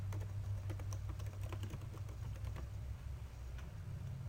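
Quick, light keystrokes on a computer keyboard tap out a short name in an irregular burst, close and clear over a steady low electrical hum, with no talking.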